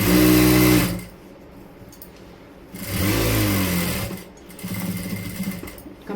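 A sewing machine stitches a Kashmiri-style palazzo in three loud, steady whirring runs, separated by short pauses and ending in a sustained burst.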